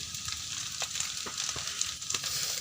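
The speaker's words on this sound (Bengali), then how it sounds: "এখন একটু নাড়িয়ে নেব" Pasta being stirred in a pan, a soft sizzle beneath light repeated scrapes of a spoon, close but fairly quiet, with no voices.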